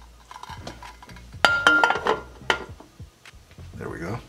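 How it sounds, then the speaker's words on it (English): A metal lid clanks onto a small cooking pot from a Russian FSB single-meal combat ration. Two or three bright, close clinks sound amid light handling noise, and someone talks nearby. "Let's not forget our lid."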